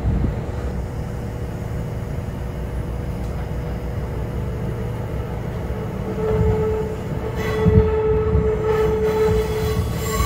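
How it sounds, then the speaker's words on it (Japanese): A Kintetsu rapid express train rolls into Yamato-Kamiichi station, heard from on board as a steady rumble of wheels with rising squeals and brake screech near the end, loud and close, with no talking. "列車は大和上市駅に到着です。"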